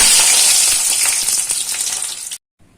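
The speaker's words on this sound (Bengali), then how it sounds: "এই যে বেগুনগুলো দিয়ে দিচ্ছি কড়াইতে ভাজার জন্য" Eggplant pieces dropped into hot oil in a wok sizzle loudly and hiss close up for about two seconds, then cut off abruptly.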